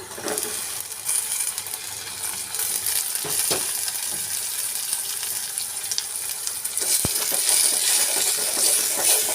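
Chopped tomato goes into a hot pan of dal tempering and sizzles loudly, a dense crackling hiss that holds steady and flares brighter near the end, with a brief clink of a utensil.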